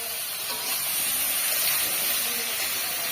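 Ridge gourd fries in hot oil, giving a soft, steady, close sizzling hiss that barely changes over a few seconds, with no voices present.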